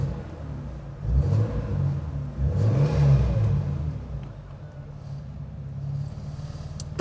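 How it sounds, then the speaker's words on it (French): A Toyota Supra's JZ engine revs while the car stands still, with deep, throaty bursts that rise and fall over a steady idle rumble, loud and close, with no voices. "La puissance du JZ à l'arrêt."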